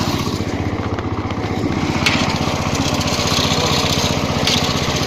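Small engine pulling a loaded cart up a hill, a steady, loud, close puttering drone that holds without a break throughout, with no talking.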